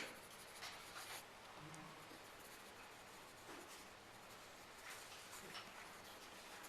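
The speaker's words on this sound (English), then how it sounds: "So keep turning your pencil." A pencil scratches across paper while grass is shaded in a drawing, a faint, continuous close-up scratching with short, repeated strokes.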